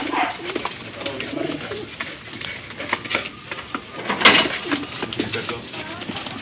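Pigeons coo softly amid outdoor background noise, with a brief sharper bird call or flutter midway; someone talks faintly in the background.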